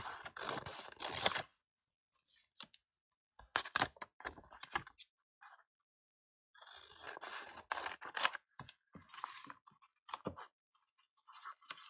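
Paper being cut with scissors for a collage, heard as short bursts of crisp snipping and rustling separated by silent pauses, close and fairly quiet.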